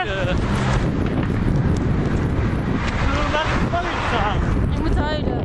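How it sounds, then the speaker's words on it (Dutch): Strong wind blowing outdoors at a crossing point, buffeting the microphone with a loud continuous low rumble while a person talks and cries out over it. "Ik vind deze wind niet leuk."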